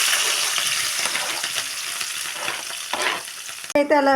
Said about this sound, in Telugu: ఆయిల్ వేసేసి దాంట్లో పోపు ఎల్లిపాయ వేసాను, పోపుకి జీలకర్ర వేసాను, ఆవాలు వేసాను, మిర్చి ఉండి ఆనియన్ వేస్తున్నా